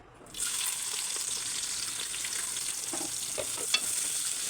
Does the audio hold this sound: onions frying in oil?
yes